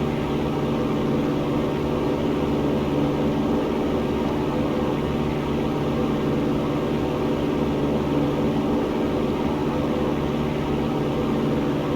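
Small propeller airplane engine at climb power after takeoff, holding runway heading, a loud, steady droning hum with a broadband rush continuing unchanged for twelve seconds, heard from inside the cockpit with no talk.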